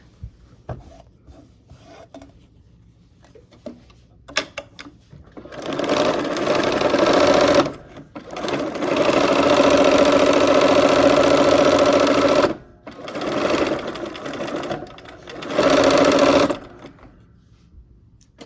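A sewing machine stitches quilt block seams in several sustained loud runs separated by short pauses, with light handling clicks and rustling before the first run.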